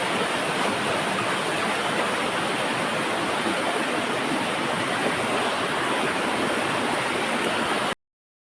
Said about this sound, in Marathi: पाण्याचा फ्लो बघू शकते बघा